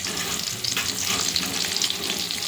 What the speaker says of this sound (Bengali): পেঁয়াজটা ভাজা ভাজা এবারে করে নেব